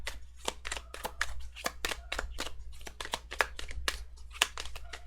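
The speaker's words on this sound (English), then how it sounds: "I didn't mean to shuffle, but I guess we're shuffling." Tarot cards are shuffled by hand in a rapid run of crisp riffling snaps and flutters, close and steady over several seconds.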